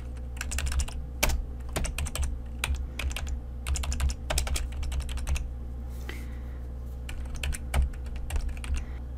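Typing on a computer keyboard, with quick clusters of close, crisp key clicks in an uneven rhythm over a low steady hum, quiet overall and without talk.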